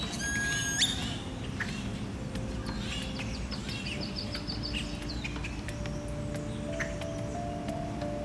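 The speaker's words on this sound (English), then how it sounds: "A couple of great-tailed grackles were getting antsy in the hotel grounds." Great-tailed grackles in hotel grounds on the Panama coast give sharp rising whistles and scattered clicking squawks, fairly faint against a steady background hum.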